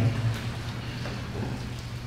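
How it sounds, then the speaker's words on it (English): Steady rain falls outside during an indoor gathering, a soft, even hiss that runs unbroken from start to end, with nobody speaking over it. "I can hear it raining"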